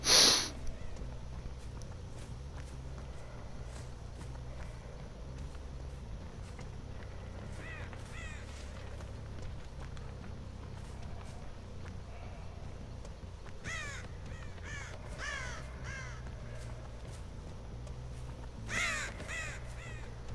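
Crows in the Dead by Daylight video game give a few sharp, raspy caws over a steady low game ambience, with a loud burst at the start and scattered calls later on.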